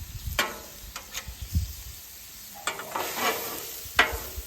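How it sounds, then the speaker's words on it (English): Stir fry on a Blackstone griddle, with faint intermittent scraping and stirring strokes over a soft sizzle, a few sharp spatula clicks spaced through the quiet. "That's our version of a Blackstone stir fry."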